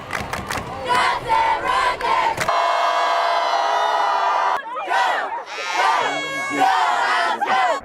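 A high school student section roars and chants in loud, dense shouting, with a sustained collective yell in the middle before rhythmic cheering resumes, close and energetic.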